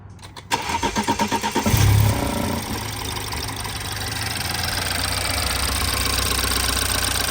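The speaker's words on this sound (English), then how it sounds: "I'm gonna go ahead and do first start" A 2014 BMW 328i GT xDrive engine cranks with a rapid rhythmic chugging, catches with a loud roar, then settles into a steady idle close by, on first start after a valve cover gasket replacement.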